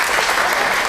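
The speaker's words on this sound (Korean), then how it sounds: "박수 부탁드릴게요" Audience at a book talk held at an embassy breaking into dense, loud applause, a continuous wash of many hands clapping throughout.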